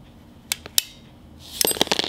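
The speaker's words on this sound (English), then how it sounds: "this little rod, you're gonna hear a click" A small rod snapping into the brush holder of a car alternator gives a couple of sharp, close clicks, followed by a brief burst of metallic rattling and handling.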